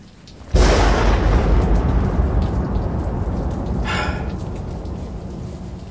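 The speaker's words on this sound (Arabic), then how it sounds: "هاو اضرب الرعد" Thunder cracks suddenly and loudly over steady heavy rain, then rolls and rumbles on under the downpour, with a brief brighter burst later; no talking.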